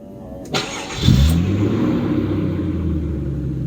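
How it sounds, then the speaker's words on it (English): A 1994 Mazda 929 engine cranks and starts with a click, then settles into a steady, low, rumbling idle with a rough, rattly exhaust tone from a rusty muffler. "that's how the muffler sounds"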